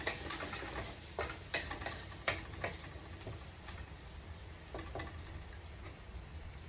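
Cauliflower and potato curry is stirred in a pan over a low flame, with soft scraping strokes and light clicks of the spoon over a faint sizzle, quiet and close.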